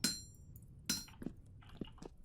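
Metal tools being hammered out in the survival game Vintage Story, with two sharp ringing strikes followed by several quieter, duller knocks at an uneven rhythm.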